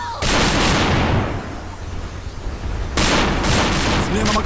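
Dense, loud bursts of automatic gunfire from a gun in the fast-paced online shooter Alliance of Valiant Arms, firing in two long sustained volleys with a brief lull between them.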